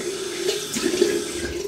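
Water runs steadily from a tap during wet shaving prep, a continuous splashing hiss at moderate volume with no voices.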